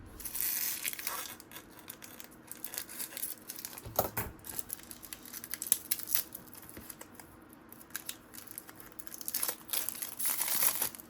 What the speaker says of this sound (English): I'm gonna take a scissors and cut this open.